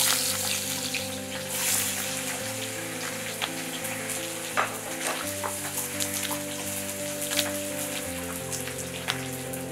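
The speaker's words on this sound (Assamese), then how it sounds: "তেল গৰম হোৱাৰ পিছত আমি এয়া দুটা পিয়াজ ডাঙৰকৈ কাটি লৈছো" Onions cut into large pieces sizzle steadily in hot oil for a homemade chilli chicken gravy, a dense, even crackle with soft pops and no talk, alongside a steady low musical hum.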